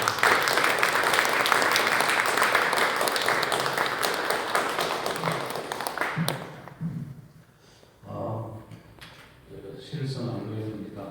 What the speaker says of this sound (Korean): 안도현 시인님을 큰 박수로 맞이해 주시면 감사하겠습니다.